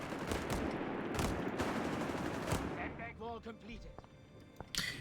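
Rifle gunfire in the World War II strategy game Company of Heroes 3, with a burst of sharp, rapid shots over a dense battle din that then thins into scattered, more distant pops and a final crack.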